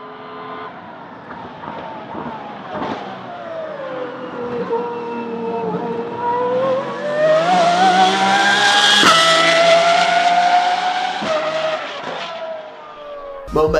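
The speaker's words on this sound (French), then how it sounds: "c'est un V12 atmosphérique de 8 litres qui prend 9000 tours minute avec échappement libre" Pagani Huayra R with a naturally aspirated 8-litre V12 and straight exhaust, screaming loudly as revs climb and fall through gearchanges, rising to a sharp high-pitched peak before easing off, heard alone without talk.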